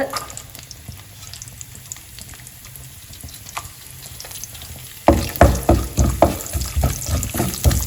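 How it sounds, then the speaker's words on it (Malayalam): Coconut pieces fry in hot oil for a peas curry, a steady low sizzle building to loud, crackling bursts after a few seconds, with rhythmic stirring scrapes in the pot; no one speaks. "തേങ്ങ കൊത്ത് മൂക്കണം"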